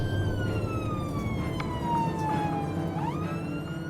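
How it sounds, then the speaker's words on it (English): Ambulance siren wailing continuously on an emergency run with blue lights on, a steady falling tone that jumps upward near the end, loud over a constant road and engine rumble. "I have missed the sirens on my 18 days off."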